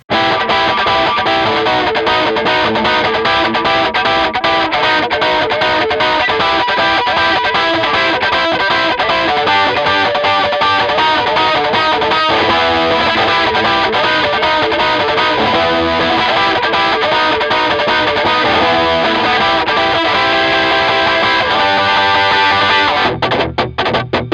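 A heavily distorted electric guitar plays a song with effects, a dense, continuous wall of loud, driving riffing and power chords sustained throughout, close and alone with no speech.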